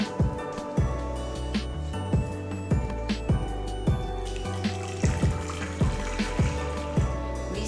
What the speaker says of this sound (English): so we need to add water here.